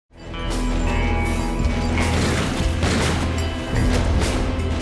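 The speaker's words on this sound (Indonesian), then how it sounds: "Semua orang di ruangan itu saling menembak tanpa ampun." Heavy gunfire in a final shootout between Hong Kong mafia factions in a room, a dense, loud and continuous barrage of crashing shots and booms that runs for the whole stretch without voices.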